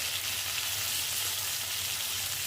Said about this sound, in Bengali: এখন অনবরত নাড়াচাড়া করব।